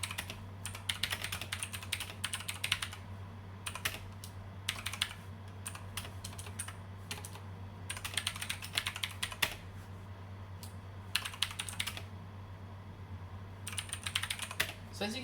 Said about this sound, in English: This is a legit blue switch mechanical keyboard.